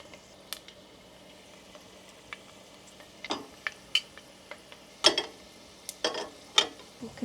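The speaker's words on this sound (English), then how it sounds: "The oil is sizzling around the samosa." Meat samosas frying in shallow oil, giving a quiet, sparse sizzle with scattered crackles and pops that grow more frequent toward the end.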